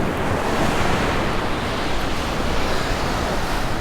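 Waves wash steadily onto a beach beside sandstone sea cliffs at Laguna Beach, California, a loud, continuous, close surf roar mixed with wind buffeting, with no speech.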